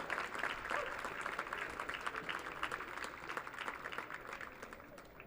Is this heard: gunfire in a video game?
no